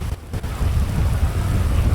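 Thunder from a lightning strike in a video game rolls out as a deep, steady rumble with a rain-like hiss on top, loud and continuous for its whole short length.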